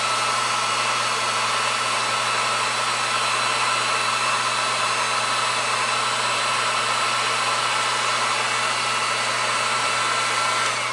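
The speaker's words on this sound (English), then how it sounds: "heat it with your heat tool until you see it come to like a melted" A crafting heat tool blows hot air to melt embossing powder, a loud constant hiss-like roar that holds steady without a break, no talking.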